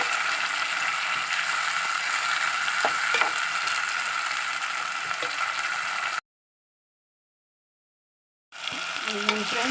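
Tomatoes frying in a pan for a brinjal curry, a steady close sizzle with scraping stir noises, broken by a short silent gap before the frying resumes.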